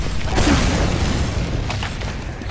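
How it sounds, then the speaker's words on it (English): A rocket blast in a competitive team shooter game: a loud booming explosion with a broad, rumbling decay over a couple of seconds, no voices. "The rocket hit me!"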